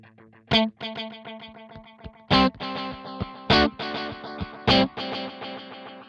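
Electric guitar through a Kemper Profiler set up as a Space Echo tape delay, with two playback heads combined, so picked notes and chords trail into stacked rhythmic repeats alone without talking.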